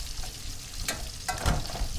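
Ripe tamarind stirred with fish sauce and sugar in a pot, a soft steady sizzle with a few louder scraping strokes partway through.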